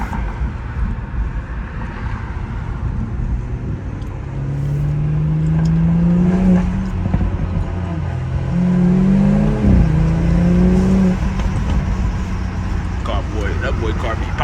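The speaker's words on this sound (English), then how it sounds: "That boy car be pop, pop, pop, pop, pop, pop, pop." A BMW 340 accelerates hard in early morning traffic, its engine note rising in two long surges under a steady road roar, while people talk inside the car.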